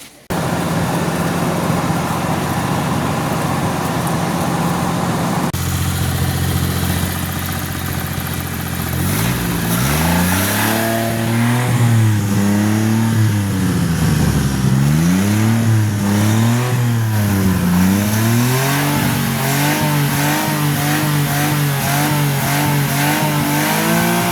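Green turbo Kei car engine running as it warms up, a steady idle that gives way to repeated revs rising and falling in pitch, loud and close with no talking.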